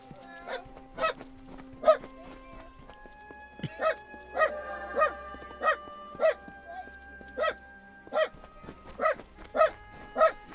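A dog barks repeatedly in steady, evenly spaced single barks, clear and fairly close, continuing for several seconds with a faint tonal background hum.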